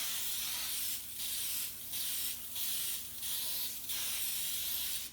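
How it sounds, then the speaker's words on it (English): Baking spray containing flour is sprayed onto a cake pan in a kitchen, five short hissing bursts in a steady rhythm with brief pauses between, close and fairly quiet, with no talk. "So you spray your pan."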